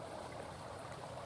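A stream runs in California hunting country where rabbits and quail hide, a continuous soft rush and trickle of flowing water, steady and fairly faint, with no voices.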